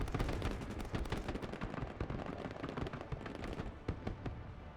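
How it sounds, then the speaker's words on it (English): Grenade launchers firing on infantry in the war game Broken Arrow, a dense, continuous barrage of sharp bangs and blasts with rapid overlapping reports, loud and close throughout. "the grenade launchers make short work of most of these infantry"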